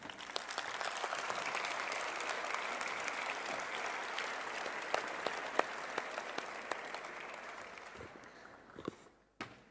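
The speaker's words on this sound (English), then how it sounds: "I think they deserve an applause." A scientific symposium audience applauds the speakers, a broad sustained clatter of clapping hands that thins out and breaks into a few last scattered claps and shuffles at the end.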